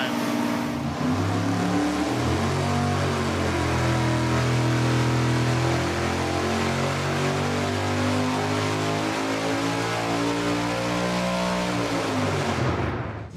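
Supercharged big-block Chevy engine warming up on a dyno, a loud steady low rumble holding near-constant revs for about twelve seconds before cutting off abruptly at the end.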